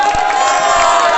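A crowd at a cricket match prize ceremony, the Shah Muqeem Qalandars versus Khan Lions qualifier, roars and cheers in a continuous loud wash with applause mixed in. An announcer's amplified voice runs over the top.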